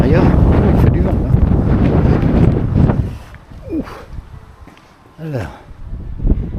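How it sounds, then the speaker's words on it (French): Strong gusts buffet the microphone on a hilltop by a chapel, a loud roaring rush that fades after a few seconds into quieter wind with brief voice-like sounds. "il fait du vent là"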